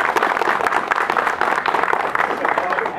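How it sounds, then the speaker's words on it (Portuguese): Steady applause from a crowd at a graduation ceremony, dense hand clapping that carries evenly throughout. "Merece a salva de palmas."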